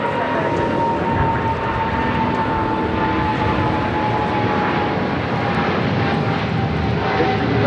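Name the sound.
Boeing 777 jet taking off from LAX runway 25 right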